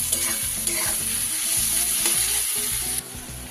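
Onions fry and sizzle in a hot pan until they turn reddish, a dense, close hiss with repeated stirring scrapes throughout and a brief dip near the end, no one speaking.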